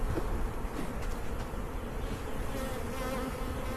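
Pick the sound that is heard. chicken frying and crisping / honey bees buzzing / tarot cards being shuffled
honey bees buzzing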